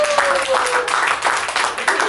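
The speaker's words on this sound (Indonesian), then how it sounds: "tepuk tangan" Audience applause at a book launch celebration, a steady wash of clapping lasting about two seconds with a faint voice riding over it.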